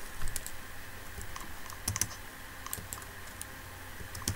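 Rapid computer keyboard typing, a steady run of light clicking keystrokes with a few louder taps, close by in a quiet room.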